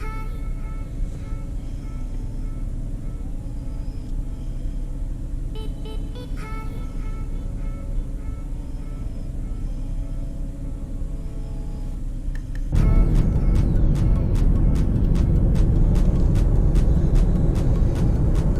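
A car fitted with a Volo Chip VP16 power programmer launches in a 0 to 60 run; a quiet rumble grows abruptly louder into a strong acceleration roar partway through.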